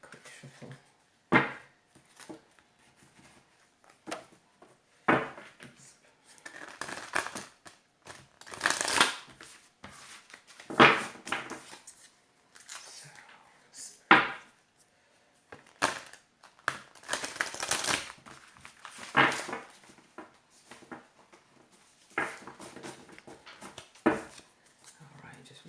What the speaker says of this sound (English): Okay, I'll just give it a quick shuffle.